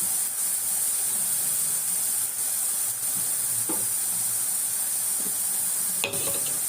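Onions sautéing with salt in a pan: a steady, close sizzling hiss runs throughout, with a few faint clinks and stirring scrapes and no talking.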